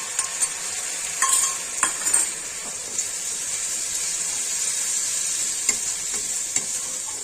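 Whole spices sizzle and spit in hot oil in a pan for a Bengali potato curry with egg and garlic leaves, a steady bright frying hiss broken by several scraping stirs and crackling pops, close and continuous.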